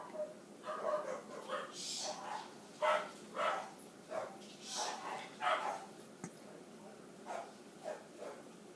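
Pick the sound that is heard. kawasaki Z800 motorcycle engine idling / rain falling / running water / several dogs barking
several dogs barking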